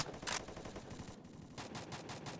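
Gunfire from a sniper rifle in the Free Fire video game, a sharp close shot followed by a quick run of further shots, heard alone.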